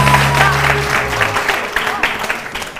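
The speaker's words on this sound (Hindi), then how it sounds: "पहले तो काशू के लिए तालियां बजाइए" A television morning show's studio audience applauds in a dense, steady burst of clapping that lasts nearly three seconds. A host's voice carries through the applause.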